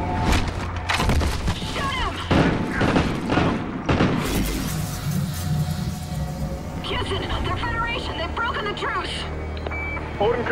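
Gunfire in the first-person shooter Call of Duty: Ghosts during a battle on Odin Control, with bursts, booms and thuds dense through the first few seconds, then electronic beeps and tones as the firing thins, under shouted voices.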